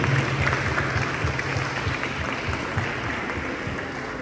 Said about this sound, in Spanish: para quien pedimos un fuerte aplauso